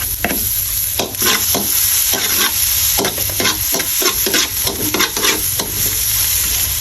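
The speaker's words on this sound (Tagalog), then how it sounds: "Magigisa na tayo ng bawang." Garlic sizzles in butter in a pan while a utensil stirs it, a steady loud frying hiss broken by repeated scraping strokes, with no one speaking.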